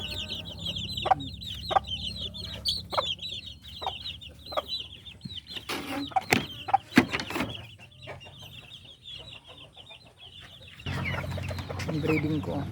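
A backyard hen with a single chick clucks repeatedly in short, uneven bursts at close range, with occasional sharper calls and some rustling, and the clucking continues against a low background hum.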